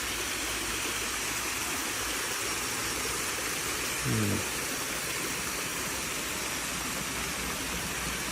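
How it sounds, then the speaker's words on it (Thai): Steady, even rush of the Kham Hom waterfall running in the rainy season, a continuous broadband wash of falling water heard up close with no one speaking, and a brief low thump just past the midpoint. "ยังมีน้ำไหลอยู่ตลอดนะครับ"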